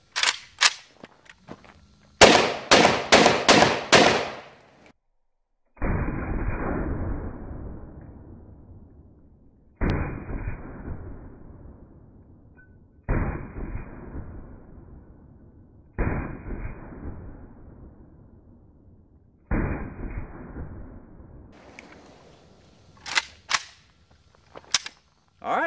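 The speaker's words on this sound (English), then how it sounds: "now we're gonna do the AK-47. Like the 9mm, I'm going to fire 5 rounds" An AK-47 rifle fires five 7.62x39 rounds during a book destruction test. Each loud, sharp shot stands alone with a long decaying echo, spaced a few seconds apart, and quicker clicks and bangs come just before and after.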